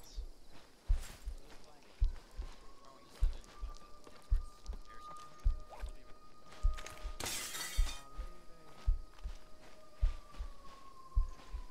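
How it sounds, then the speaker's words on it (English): Window glass shatters in a World War II video game, a bright crash standing out midway through a steady run of rhythmic footsteps and background game ambience. "broken glass downstairs."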